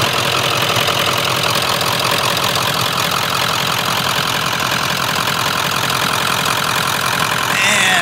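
A Powerstroke diesel truck engine idles loudly and steadily with a rough, knocking low rumble that holds constant the whole time.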